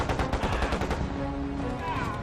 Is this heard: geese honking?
no